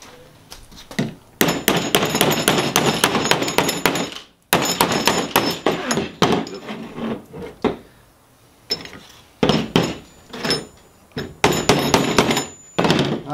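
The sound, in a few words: hammer banging shock sleeve into Land Cruiser suspension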